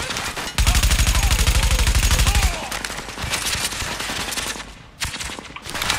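Submachine gun fire in The Division, a rapid burst of closely spaced shots lasting about two seconds, loud and close, followed by scattered gunfire, impacts and game ambience.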